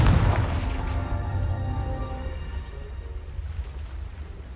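A Confringo spell blast in Hogwarts Legacy, a single deep booming explosion at the start that rolls off into a long, fading rumble with no talk.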